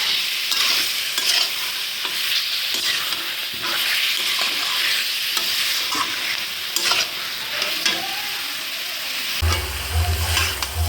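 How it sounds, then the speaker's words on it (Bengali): Potatoes and soybean chunks sauté with spices in a pan, sizzling loudly and steadily while a spatula scrapes and stirs in frequent short strokes, and a low hum comes in near the end. "মশলার সঙ্গে আলু আর সয়াবিন ভালো করে কষা হয়েছে।"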